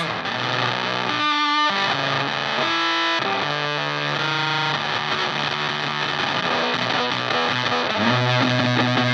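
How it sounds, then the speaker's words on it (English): An electric guitar plays through a fuzz pedal set for gated, spitty, waspy distortion, with loud sustained buzzing chords and notes that cut off abruptly, playing continuously without talk. "It's a very cool, unique fuzz pedal."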